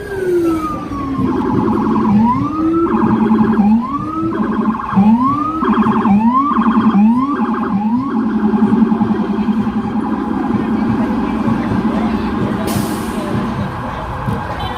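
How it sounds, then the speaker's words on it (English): An emergency siren wails loudly through a New York City street near Fifth Avenue, sweeping up and down in repeated yelps before settling into a steady high tone, with traffic noise underneath. "Lots of sirens today in New York."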